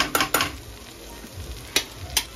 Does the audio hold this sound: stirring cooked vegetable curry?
yes